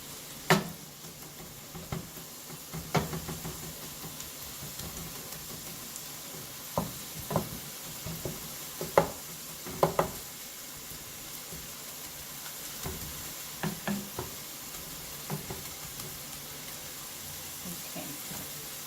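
Spiced meat sizzles steadily in a hot pan at low level, with scattered soft pops and crackles rising now and then over the continuous fry.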